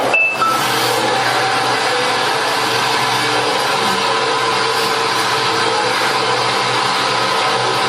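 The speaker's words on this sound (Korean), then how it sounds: "돈 세는 소리가 들리시죠?" Steady mechanical whirring of a banknote counting machine running continuously at an even level, with no voices.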